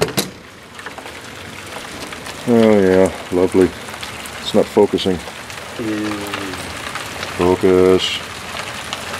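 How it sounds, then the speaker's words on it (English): Rain falls outdoors as a soft, steady hiss in the background, and a person talks over it at intervals. "Oh, but you can hear the rain."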